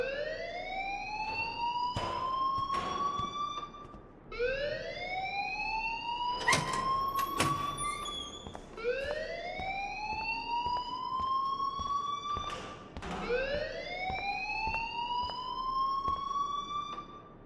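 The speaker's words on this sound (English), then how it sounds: "please turn off that alarm since that's your job" A school alarm in Life Is Strange wails in repeated rising sweeps, four long cycles in a steady rhythm, loud and close, with occasional sharp clatters cutting through.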